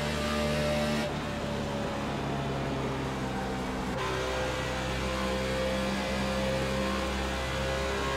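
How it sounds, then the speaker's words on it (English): A race car engine in the iRacing sim during a Carb Cup oval race, droning steadily at high revs with a constant tonal hum, one brief shift in pitch near the start, no talk over it. "Car's really starting to come to life there a little bit there."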